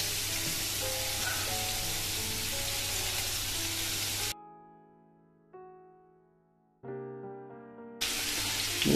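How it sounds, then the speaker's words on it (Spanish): Níscalo mushrooms tipped into a hot frying pan sizzle loudly and steadily, then the frying drops out for a few seconds while soft music plays before a loud sizzle returns. "echamos las setas. Vamos a ir echándolas."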